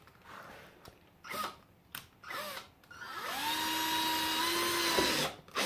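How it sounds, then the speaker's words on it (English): A power drill boring a starter hole, with a few short bursts of the motor first and then one long, loud, steady whine that spins down at the end. Brief voices are heard before the drilling starts. "drill a starter hole."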